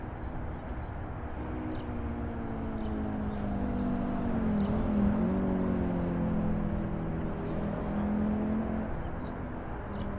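Audi Quattro in the Assetto Corsa racing game on the Nordschleife, a steady loud engine drone with shifting pitch sustained throughout, no talk.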